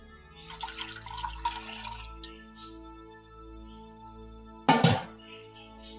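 Milk poured into a soup pot for cheeseburger soup, a soft liquid trickle followed by a brief louder splash and clink near the end, close and fairly quiet.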